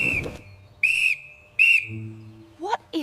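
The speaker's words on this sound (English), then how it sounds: "What is that urgent emergency whistle signal coming from my kitchen windows?" An urgent emergency whistle signal sounds in sharp, high bursts, one at the start and two more shortly after, loud and close, followed by brief rising electronic-like tones at the end.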